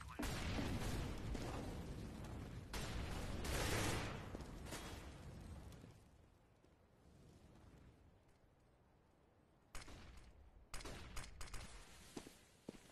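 Counter-Strike match gunfire and explosions: dense rattling bursts and blasts for several seconds, a quieter lull, then sharp scattered shots, with a voice commentating over it.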